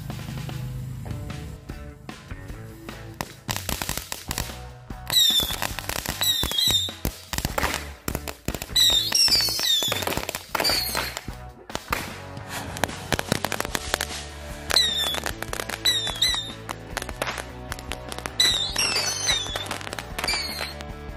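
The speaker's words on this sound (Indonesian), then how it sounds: "selanjutnya kita nyalakan mercon Rocket Patriot" Rapid strings of firecracker rocket bangs and crackles with whistling bursts, loud and close, popping in dense clusters throughout.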